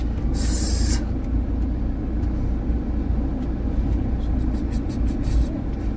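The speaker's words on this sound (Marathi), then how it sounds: "ट्रॅफिक तो बहुत लगी है." Dense road traffic in a jam, a loud continuous rumble of idling and creeping vehicles close by, with brief hissing bursts like air brakes and faint voices in the background.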